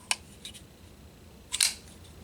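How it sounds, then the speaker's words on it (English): A quiet folding knife flicks open with a couple of soft, close mechanical snicks, then a crisp lock click near the end. "Barely makes any noise opening up, just the click of the lock."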